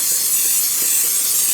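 Olive oil cooking spray hissing from a can in a kitchen while fish is prepared for an air fryer, a steady bright hiss held for the whole moment, close and fairly loud.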